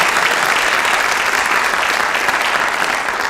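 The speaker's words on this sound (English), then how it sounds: "Give her a nice big applause." An audience applauds an accompanist, a dense, even wash of many hands clapping that stays loud and steady throughout, with no voices.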